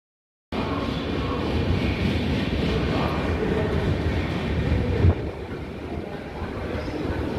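A passenger train on the Thrissur–Guruvayur rail route rolls past with a loud, continuous broadband rumble and clatter that starts suddenly after a moment of silence and continues steadily, swelling briefly near the five-second mark.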